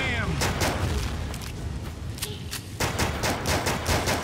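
Pistol gunfire in NecroVisioN cracks out in a rapid, loud volley of sharp shots, firing close and steady in bursts across the span with only brief gaps.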